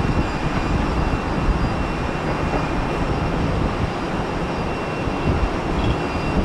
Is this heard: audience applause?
no